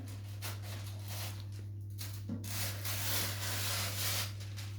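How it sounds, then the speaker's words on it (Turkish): Baking paper is cut to size for a baking tray in a home kitchen, making soft repeated rustling and scraping strokes at close range with no voice. "şimdi fırın kağıdımı kesiyorum"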